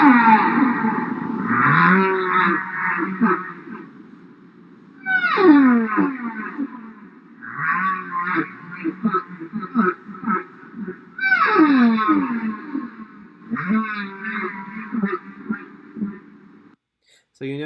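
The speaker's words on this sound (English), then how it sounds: "The next one we're going to listen to is the humpback whale." Humpback whale song with rising and falling moans, wails and chirps in several loud phrases separated by short pauses, echoing and heard alone.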